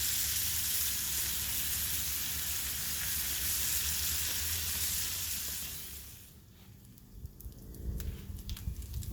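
Bacon slices fry in a pan with a dense, steady sizzle and crackle for about six seconds. The hiss then drops away, leaving quieter scattered pops and small clicks.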